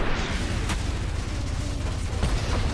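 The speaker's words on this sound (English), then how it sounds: "Can you imagine I die on that explosion?" A blast from an explosion in the video game Ultrakill, a dense, loud, continuous roar of booming noise with sharp impacts near the start and end, no voices.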